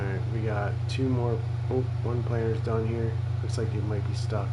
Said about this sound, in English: Sorry about the fan, but I am not turning it off tonight.